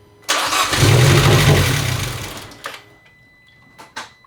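An Abarth car engine cranks and catches in a loud, rough burst that swells for a couple of seconds and then fades, followed by a few short clanks close by.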